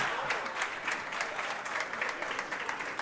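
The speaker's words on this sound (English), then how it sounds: "Crowd gets him a great hand." A crowd applauds a strike at a collegiate bowling championship, with steady, dense clapping sustained throughout and no talk over it.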